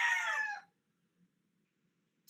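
A rooster's crow rings out briefly and fairly loud at the start, then fades into near silence with only a faint low murmur.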